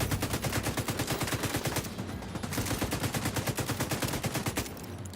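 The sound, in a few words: LMG machine gun fire in video game The Division 2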